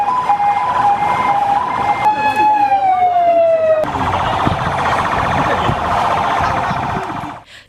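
Emergency ambulance sirens wail loudly and continuously near a crowd of parents as students with suspected food poisoning are collected in Mukono district, the tone sweeping and shifting pitch.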